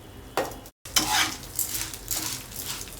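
Dried red chillies and spices fry in a pan for a spicy chutney powder, with a soft crackling sizzle and brief scraping stirs of a utensil, fairly close and without talk.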